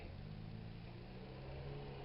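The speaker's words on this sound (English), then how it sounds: "I'm going to have a car going by here." A passing car on a road near a jungle clearing, heard as a steady mid-low engine rumble and tyre hum that holds level throughout, moderately close, with no voices.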